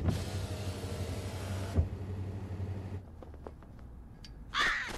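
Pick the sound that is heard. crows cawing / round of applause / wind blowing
crows cawing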